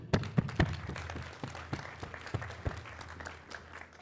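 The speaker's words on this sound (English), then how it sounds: "let's give them a round of applause" Audience at a security conference talk clapping for two presenters, a few loud nearby claps and thumps over sparse, uneven applause that tapers off quickly.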